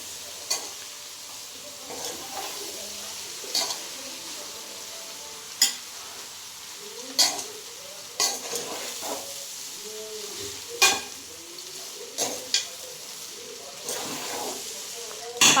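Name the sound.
stirring fried rice frying in a pan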